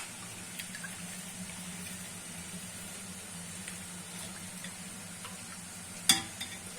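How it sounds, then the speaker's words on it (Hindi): Milk for carrot halwa stirred with a spoon in a home kitchen, a soft steady liquid swishing with a low hum beneath, ending in one brief louder clink near the end. "दूध को इस तरह से हिला के डाल लेंगे।"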